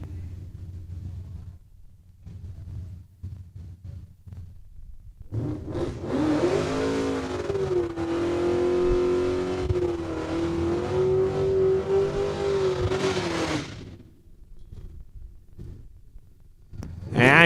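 A Ford Mustang drag races at Saskatchewan International Raceway in Saskatoon, a loud engine roar that builds and holds through a long rising pull, then fades out. Quieter engine rumble surrounds it before and after.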